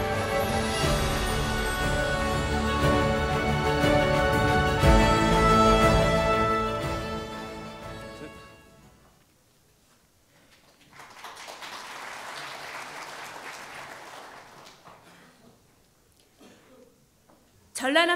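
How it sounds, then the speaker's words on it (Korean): Applause from an audience at a provincial forum on founding a national medical school greets committee members walking onto the stage, a broad burst of clapping that follows music and fades out. "큰 박수로 환영해 주십시오."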